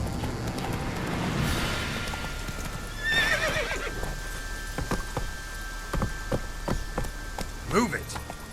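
Geralt's horse Roach in The Witcher 3 gives a loud whinny and then a run of clip-clopping hoof steps, with a second neigh near the end, all close and clear.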